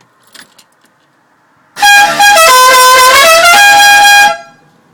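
Multi-tone musical horns on a scooter blare a loud Dixieland melody, several bright brassy notes stepping through the tune for about two and a half seconds, preceded by faint clicks.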